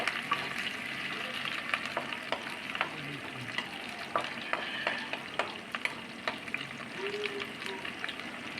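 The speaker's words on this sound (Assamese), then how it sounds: "পিঁয়াজখিনি ৰঙচুৱা হোৱালৈকে আমি ভাজি থাকিব লাগিব।" Onions and green chillies fry in a pan under steady stirring, with a continuous sizzle broken by frequent sharp scrapes and clicks of the spatula.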